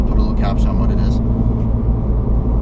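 Deep, steady engine drone and exhaust rumble from a 2016 Mini Cooper S fitted with an exhaust and tune package, heard from inside while driving, loud and continuous with brief faint sounds over it.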